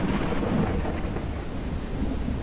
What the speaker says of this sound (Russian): Тут еще дождь, блин.